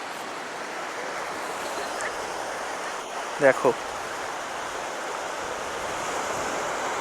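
Sea waves roll in at high tide on New Bakkhali beach as a steady, broad wash of surf, with a short spoken word midway.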